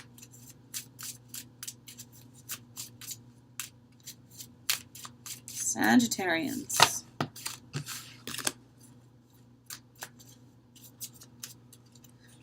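Tarot cards being shuffled and riffled, a soft papery rustle with quick flicks, loudest briefly in the middle, with a low steady hum underneath.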